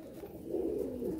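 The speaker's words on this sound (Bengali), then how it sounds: "ম্যাড্রাসি পায়রা নাকি? ম্যাড্রাসি পায়রা।" A Madrasi pigeon in a loft gives a short, soft, low coo, close and faint against a quiet background.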